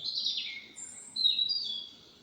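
Bright, high bird song in two short whistled phrases, clear and fairly close against a quiet background, sung by a nightingale.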